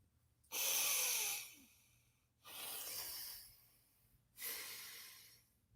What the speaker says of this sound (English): With our ability to cleanse via nasal passages on Nadi Shodhana breathing.